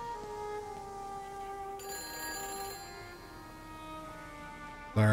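A telephone rings in the PC version of the video game Everybody's Gone To The Rapture, a sustained metallic bell tone that rings on steadily and clearly without any talk over it.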